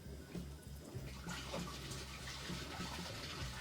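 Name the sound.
boiling hot water poured through a funnel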